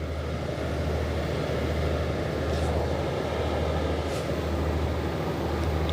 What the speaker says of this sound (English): Such a soothing noise, this engine.